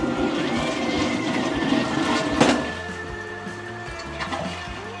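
A high-tank pull-chain toilet flushing, a steady rushing wash of water with a brief sharp clank partway through, then a gentler trickling refill, close and continuous.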